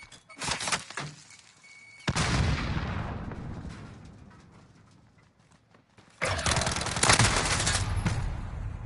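Heavy gunfire from the video game Modern Warfare (2019) played on PS5, loud sustained bursts of automatic fire in two long stretches separated by a fading lull, with sharp shots at the start.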